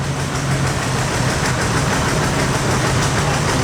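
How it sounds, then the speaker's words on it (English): A 1957 John Deere 720 tractor engine runs in a small-town parade, a steady low throbbing idle heard continuously and fairly close. "Brian and Brenda Hafer, that's a 1957 JD 720."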